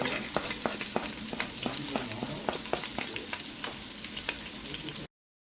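Chopped shallots sizzle in a pan left with the browned drippings of seared beef meatballs. A steady, close hiss carries sharp stirring clicks and scrapes, then cuts off abruptly.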